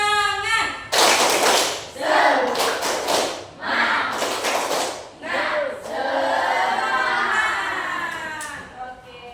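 A group of people at a school session claps out a tepuk semangat rhythm together, bursts of loud patterned hand claps broken by short pauses, with voices chanting along.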